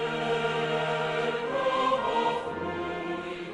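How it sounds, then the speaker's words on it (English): The Czech national anthem in a short orchestral stretch, sustained brass and strings, stately and full, playing on its own without any voices. "With the flag comes the anthem, which sounds like this."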